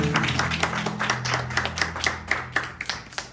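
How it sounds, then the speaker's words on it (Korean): A church congregation applauds together in a steady burst of hand claps, fairly close and full, with a low sustained tone underneath throughout. "서로를 향해서 함께 박수하겠습니다."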